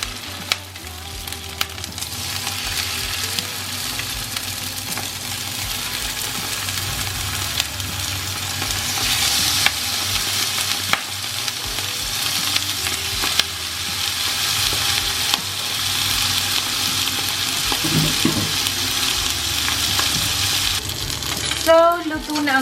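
Five slices of salmon fry in a pan for a salmon carbonara, a steady crackling sizzle running throughout with occasional stirring clatter and a sharp clank near the end.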